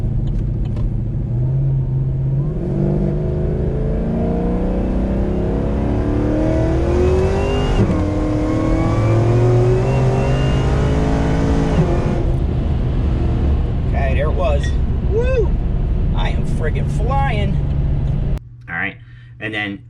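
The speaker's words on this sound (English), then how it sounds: "I'm pulling onto the on-ramp right here, and then shift 2 to 3, 3 to 4, and then I let out of it" A Chevy SS accelerates hard up a highway on-ramp, the engine climbing loudly through second, third and fourth gear with rising whine and brief dips at each shift, then easing off as the throttle lifts; a voice talks over the engine throughout.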